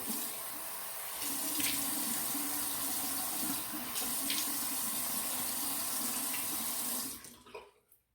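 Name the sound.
running tap water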